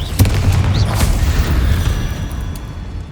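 A Confringo fire blast spell explodes in the Hogwarts Legacy video game. A loud, deep boom with crackling pops rolls into a sustained rumble, close and forceful, with no voices present.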